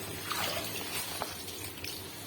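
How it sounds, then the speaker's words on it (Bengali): Leafy red greens being swished in a big bucket of water make soft, faint sloshing and trickling with a few light splashes. "তাই আমি এখন বড় বালতির ভিতরেই শাক সুন্দর করে ধুয়ে নেব।"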